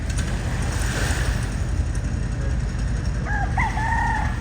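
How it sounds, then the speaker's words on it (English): A rooster crows once, fairly distant, near the end, on a beach near Ijen Crater, over a steady low rumble of engine or outdoor noise. "Oh, thank you. I appreciate that, Mr. Rooster."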